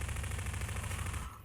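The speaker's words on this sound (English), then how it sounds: "the machine gun's actually mostly my go-to weapon" A machine gun fires in Half-Life as a fast, loud, continuous burst of rapid shots that cuts off sharply near the end.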